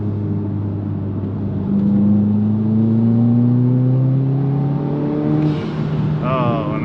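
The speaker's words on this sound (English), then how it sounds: "flat 4-cylinder engine. Love the way it sounds, especially through the exhaust system." A 2022 Subaru WRX flat four-cylinder engine revs up steadily, its pitch rising through the gears with a smooth, throaty exhaust note, close and loud.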